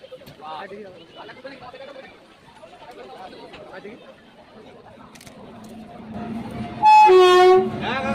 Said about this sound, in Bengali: পাশ দিয়ে এই ট্রেনের ইঞ্জিন ডব্লিউ এজি নাইন পেছন থেকে সামনের দিকে যাচ্ছে